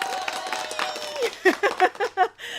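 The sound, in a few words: hands clapping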